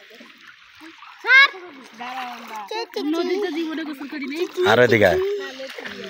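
Water splashes and sloshes as people bathe and dip in a river, with bursts of louder splashing amid near, continuous talk from an adult and a child.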